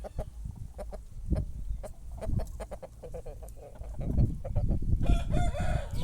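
A rooster crows nearby while hens cluck in short, irregular bursts, the flock growing busier and louder toward the end.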